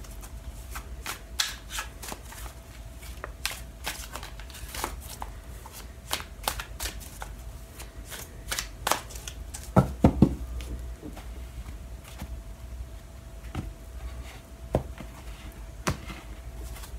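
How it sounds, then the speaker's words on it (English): Tarot cards being shuffled over and over, a steady run of sharp riffling snaps and soft taps against a low background hum, close and clear. "So I'm going to shuffle the cards right now"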